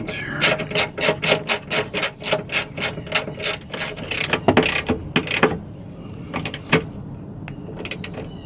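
A ratchet wrench tightens the seat swivel bolts inside a Ford Transit van conversion, producing a rapid run of close, sharp clicking strokes, then a few scattered clicks after a pause.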